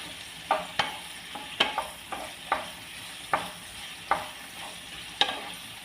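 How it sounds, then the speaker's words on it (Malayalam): Chilli chicken stirred nonstop in a pan over a high flame, with a steady sizzle under repeated sharp scrapes and clacks of the spatula, about one every half second, close and fairly quiet with no talk. "ഇത് ഹൈ ഫ്ലെയിമിലിട്ട് നിർത്താതെ ഇങ്ങനെ ഇളക്കിക്കൊണ്ടിരിക്കണം"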